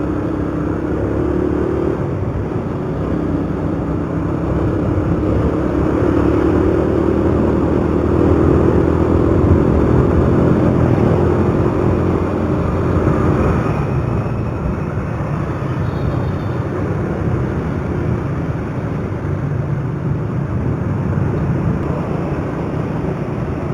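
Yamaha Vega ZR motorcycle being ridden on a sunny day, a steady, loud engine drone mixed with rushing wind that holds constant for the whole stretch, with no voices.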